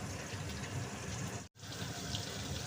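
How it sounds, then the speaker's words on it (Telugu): Korameen fish pieces sizzle in well-heated oil, a dense steady crackle and hiss filling the clip with one brief cut to silence midway. "బాగా కాగిన ఆయిల్లో ఈ ముక్కలను ఫ్రై చేసుకోవాలన్నమాట."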